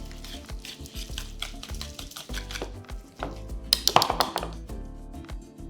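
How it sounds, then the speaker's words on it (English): Creamy enchilada filling whisked in a bowl after seasoning with salt and pepper, a soft scraping and tapping stir that builds into a quick burst of clicks near the end, over steady background music. "I'm just going to season this with a little bit of salt and pepper and just give this a whisking together."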